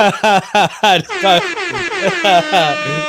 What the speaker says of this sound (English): the air horn in the chat. Yeah, the air horn.